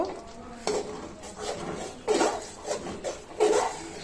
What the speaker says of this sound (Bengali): খিচুড়িটা নেড়ে চেড়ে ভালোভাবে আঠারো আঠারো করে ফেলছি